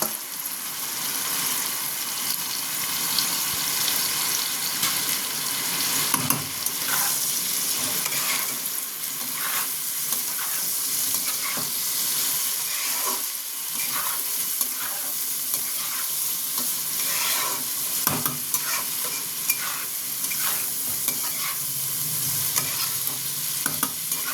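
Soaked rice being stirred and fried in a pot for a mixed non-veg pulao, a steady close sizzle with repeated scraping stirs throughout.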